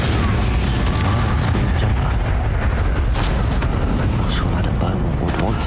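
The Incendio fire spell blasting in Hogwarts Legacy on PC, a loud, dense roar of booming fire and crackling impacts with no break, with voices heard partway through.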